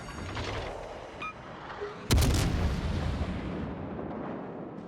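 A battleship's naval guns boom in World of Warships Legends as the North Carolina fires high-explosive shells: one sudden, loud blast rolls into a long, heavy rumble over steady background battle noise.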